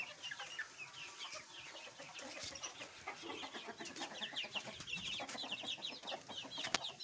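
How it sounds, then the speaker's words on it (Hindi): Chickens cluck steadily on a farm, a dense chorus of short overlapping clucks from hens that have laid eggs, close and continuous with no talking. "ये मुर्गियां माशाल्लाह अंडे देकर एक जोड़ी दे बैठी हैं"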